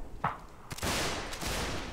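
Scattered rifle shots crack from an infantry line in a multiplayer linebattle game, a few distant pops followed by a denser, rolling burst of volley fire.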